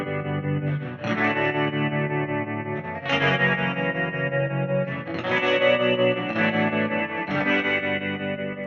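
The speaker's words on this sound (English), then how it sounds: "like this twangy tremolo sound" Electric guitar with a twangy tremolo effect plays sustained, pulsing chords in steady, loud phrases that change roughly every two seconds, with no voices.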